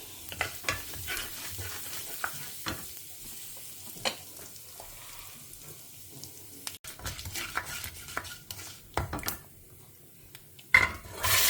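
Mustard seeds and urad dal sizzling and crackling in hot oil for a home-cooked Tamil vegetarian lunch, with scattered sharp pops, a spoon stirring against the pan and a steady low fry throughout.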